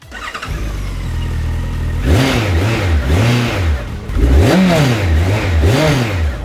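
A Honda CB1300 Super Four motorcycle engine cranks and fires up, then is revved repeatedly in swelling blips that rise and fall over a steady idle, loud and close.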